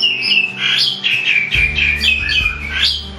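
Seven-day-old white-rumped shama (murai batu) chicks beg in a nest, close and loud, with shrill overlapping chirps and squawks rising and falling in quick bursts.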